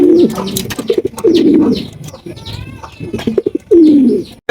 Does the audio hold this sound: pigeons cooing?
yes